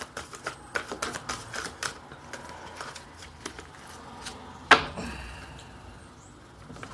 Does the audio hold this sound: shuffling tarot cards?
yes